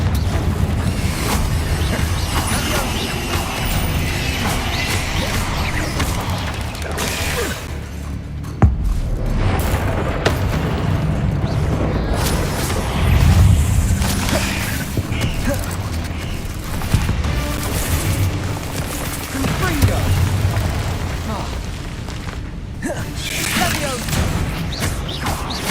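Confringo explosive spell blasts in Hogwarts Legacy land as heavy booms and crashes within a loud, dense battle mix, with a few sharper impacts standing out amid continuous noise and voices.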